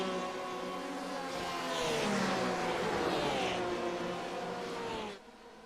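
A BMW GT3 race car in a Le Mans endurance racing game, its engine roaring steadily and loud with rising and falling revs through the Porsche curves, then cutting off abruptly near the end.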